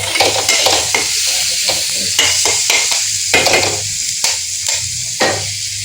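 A spatula scrapes and taps repeatedly against a pan as onion and tomato fry with a little turmeric, the rhythmic strokes loud and close over a soft sizzle, with no voices.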